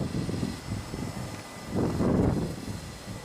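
Strong gusting wind buffets the microphone during an Air Portugal airliner's go-around in winds of about 40 to 45 knots, a continuous rumbling roar that swells louder in the second half with no talk.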